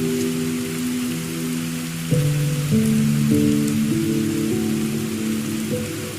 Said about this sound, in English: As the rain continues to fall